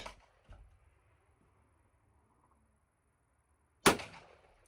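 A single sharp gunshot from a Ruger Single Six .22 revolver cracks loudly near the end, preceded by faint clicks and quiet handling noise, at a 25-meter range.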